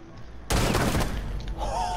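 Gunfire in the video game Rainbow Six Siege, a sudden loud burst of shots that breaks over quieter game sound and then trails off into noise.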